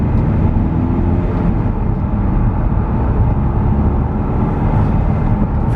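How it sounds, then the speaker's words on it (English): Skoda Octavia vRS, a cheap Copart UK salvage car that may have a weak turbo, droning loudly and steadily from inside the cabin as it accelerates through the gears, with heavy low rumble throughout. "Let's just go through the gears first."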